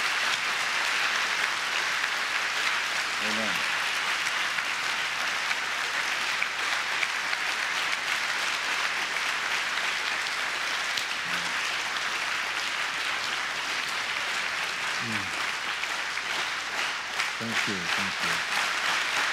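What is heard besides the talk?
audience applause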